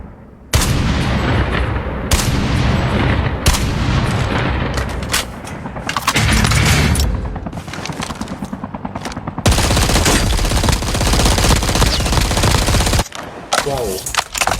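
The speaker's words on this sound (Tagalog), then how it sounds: "Grabe naman recoil ng baril na to." Rapid video game gunfire from a weapon with heavy recoil, loud sustained automatic bursts separated by brief pauses, with sharp single shots and booming blasts over a dense in-game background.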